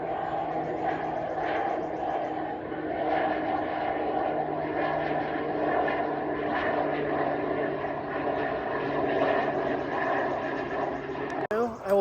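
A propeller airplane drones steadily overhead, a sustained humming engine note at moderate loudness that lasts throughout and cuts off abruptly near the end.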